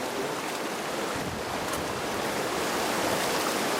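Water rushes and splashes continuously as concentrate is washed off a sluice mat into a gold pan, close and steady with no talking.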